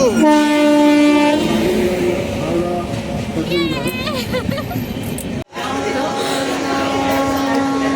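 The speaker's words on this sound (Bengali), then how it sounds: "আমাদের ট্রেন চলে এসেছে এই যে ট্রেন চলে আসলো" A train pulls into a station with a loud, sustained horn blast at the start, then rumbling wagons and squealing wheels, before another long horn tone carries on to the end.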